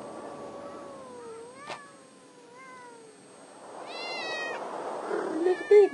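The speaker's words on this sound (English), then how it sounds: "Kitty cats." Cats meow several times in the video game Thirty Flights of Loving, with drawn-out meows first and then higher, sharper calls, faint to moderate and alone, without talking.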